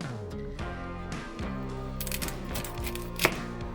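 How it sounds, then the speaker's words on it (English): An onion is cut on a board, a few soft knife strokes and taps close by over a hum of background music. "So we're going to start with cutting our onion up."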